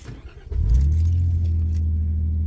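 A 2001 Nissan Pathfinder R50 4x4 truck with a five-speed manual cranks briefly, then its engine catches and settles into a steady, loud low idle, with a faint jingle of keys at the start.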